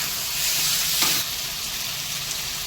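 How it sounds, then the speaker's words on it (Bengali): Potatoes sizzle in a hot pan of oil while being half-fried for a Bengali curry, a steady close hiss that swells briefly with a stir and then settles back. "এই আমার আলুটা হাফ ভাজা হয়েছে"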